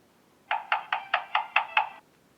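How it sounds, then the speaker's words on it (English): Seven quick, evenly spaced knocks on a door, crisp and fairly close, with no talking. "the wolf knocked on the door"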